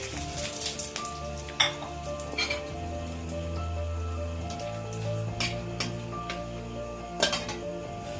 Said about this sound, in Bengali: প্রথমে ফোড়ন দেব আমি ছোটো এলাচ দু পিস আর দারুচিনি টুকরো করে নিয়েছি আর একটা শুকনো গোটা লঙ্কা আর একটা তেজপাতা টুকরো করে দেব